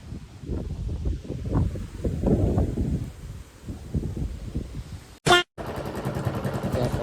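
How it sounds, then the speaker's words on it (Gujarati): Gusty wind buffeting the microphone in low, rumbling bursts, then a brief sharp noise and a steadier whoosh at the end. "ઠંડો ઠંડો મસ્ત મજાનો પવન આવે છે"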